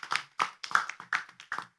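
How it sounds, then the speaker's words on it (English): Sparse, separate hand claps at a conference session roll out in about six distinct bursts, fairly quiet and with no talk over them. "now we say give applause to our presenter"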